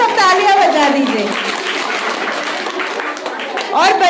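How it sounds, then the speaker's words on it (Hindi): Children applaud at a government upper primary school event in Rajiv Nagar, Dehradun, with a steady wash of clapping and excited young voices calling out over it for about four seconds. "कीर्ति के लिए जोर से एक बार सब तालियां बजा दीजिए।"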